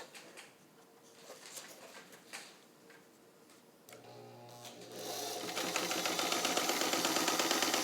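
A vintage all-steel Atlas by Brother sewing machine stitches fabric, its quiet ticking rising after a few seconds into a loud, steady, rapid mechanical whir that runs to the end.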